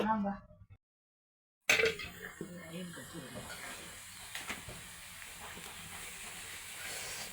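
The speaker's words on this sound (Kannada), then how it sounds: "ಈಗ ಒಂದು ಸ್ವಲ್ಪ ಹ್ಮ್ ಹುರ್ಕೊಂಡು ತೆಗಿತೀನಿ ರೀ ಅದಕ್ಕೆ ಪಲ್ಯ ಮಾಡ್ತೀನಿ" Cauliflower (gobi) frying in oil in a pan for palya gives a loud sizzling hiss that bursts in after a brief silence, then settles into a steady crackle under faint background voices.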